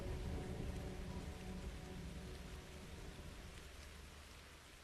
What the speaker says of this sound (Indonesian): Sekejap suara hujan deras kembali terdengar